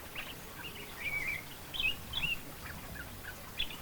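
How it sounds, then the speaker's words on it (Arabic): A black-eared wheatear gives short, thin chirping calls, several faint notes spaced irregularly over a quiet outdoor background hiss, with no talking. "على نفس المكان يتردد الأبلق أسود الأذن"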